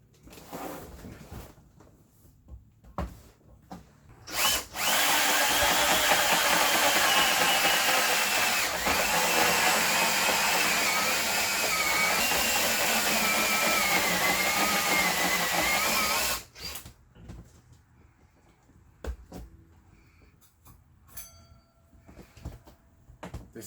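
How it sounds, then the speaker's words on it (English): A power drill boring a hole through a double-layer plywood RV table, a loud steady whirring grind lasting about twelve seconds, with a few quieter knocks and handling sounds before and after. "So let's go ahead and get this hole drilled for the automatic."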